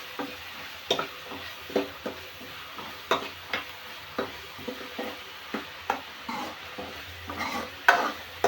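Onion, tomato, curry leaves and coriander stirred in a pan for a Tamil paruppu urundai kuzhambu, a spoon scraping in steady repeated strokes over a soft sizzle, close and moderately loud with no talking.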